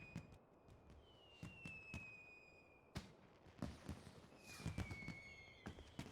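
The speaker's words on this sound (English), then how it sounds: "The fireworks." Fireworks in Final Fantasy XIV, with rising whistles that end in sharp bursts and several crackling pops spread across the scene, layered over a steady ambient background.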